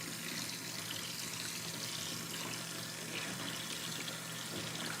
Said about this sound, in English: So I can just add some cold water.